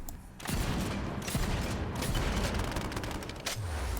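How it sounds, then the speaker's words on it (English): A Torgue shotgun in a Borderlands-style video game firing in rapid, heavy blasts mixed with mechanical clanks and ratcheting, loud and continuous for several seconds. "That's a Torg shotgun."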